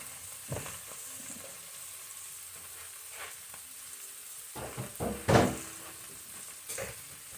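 Collard greens fry quietly in a pan with a soft, continuous sizzle, broken by a few sharper crackling bursts as they are stirred.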